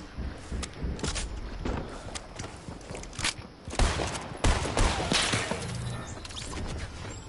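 Video game gunfire aimed at the player, a rapid, fairly faint mix of bursts and single shots with sharp cracks and impacts, continuing irregularly throughout.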